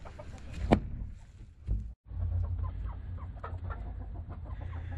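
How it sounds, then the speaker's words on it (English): Chickens cluck and squawk in a coop while one hen attacks the others, with a sharp squawk early on over a low, continuous rumbling background, moderately close and quiet. "I got one of these chickens that's attacking the other ones."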